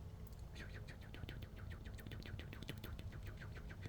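A rapid series of high, thin chirps repeats steadily over a noisy, low background hum, faint and somewhat distant.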